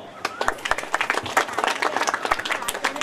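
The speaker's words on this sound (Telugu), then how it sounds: "క్లాప్స్ కొడదాం" Audience clapping at a wedding, a burst of many hands clapping at once, irregular and fairly close, with voices mixed in among the claps.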